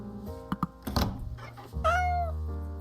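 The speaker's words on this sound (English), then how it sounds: "Oh, it's a black cat." A black cat indoors gives a single clear rising-and-falling meow after a few soft knocks and thumps, close and fairly quiet, with a faint steady hum underneath.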